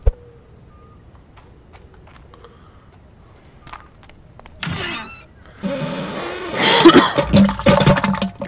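A toilet flushes in a creepy barn-finding video game in quiet woods. A faint ambient stretch comes first, then a short whoosh, then a louder rushing, gurgling flush that lasts several seconds.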